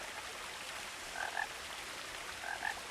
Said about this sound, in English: frogs! Can I see frogs? I can hear them, but I cannot see them.